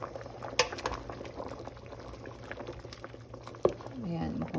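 A pot of white beans boils on the stove with continuous bubbling and gurgling, close by, punctuated by a couple of sharp clinks, while a voice talks over it.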